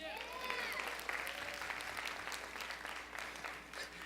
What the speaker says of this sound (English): Everybody, round of applause for Diana.